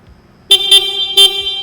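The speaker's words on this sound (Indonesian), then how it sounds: "Kita tes klaksonnya." A bright, shrill horn on a 2022 Yamaha YZF-R1M motorcycle beeps three times in quick succession, loud and close, with short gaps between the blasts.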